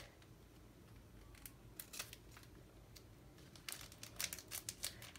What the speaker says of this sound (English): let me grab a pair of scissors